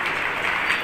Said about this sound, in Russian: Посмотрите, хлопают все.